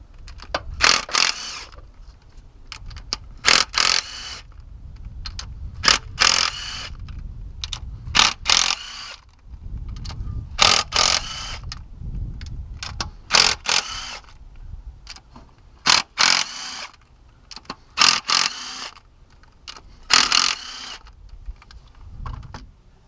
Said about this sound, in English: It's 10mm bolts, and start zinging them off.